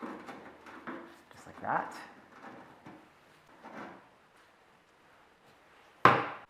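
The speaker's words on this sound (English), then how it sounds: "All you really need is a small flathead screwdriver and just pry this clamp off." A small flathead screwdriver prying the clamp off a hood strut on a Porsche Cayenne gives faint scrapes and clicks under a man's speech, then a single sharp snap as the clamp comes free.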